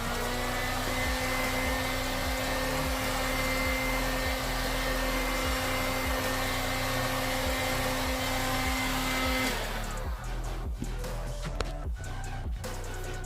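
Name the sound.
heat gun blowing to dry a washer rust repair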